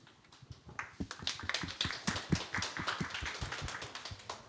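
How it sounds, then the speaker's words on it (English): An audience at an art fair talk on digital mythologies applauds the panel moderator: a dense run of hand claps, moderately near, swelling and holding for several seconds. "thank you for the applause"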